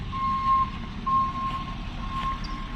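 A tow truck's reversing alarm beeps steadily in a high, even tone over a low rumbling engine idle outdoors, while an Audi A4 Quattro B6 is about to be towed.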